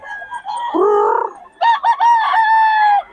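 A rooster crows loudly up close, two drawn-out calls with a brief break between them.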